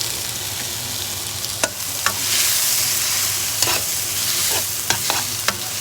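Rice and egg being stir fried in a pan, with a steady sizzle and repeated scraping and clacking of a utensil stirring through the food, close and alone.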